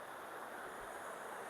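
The Cibeet river flowing in a village, a steady broadband rush of water with no distinct splashes, moderately loud and unbroken throughout.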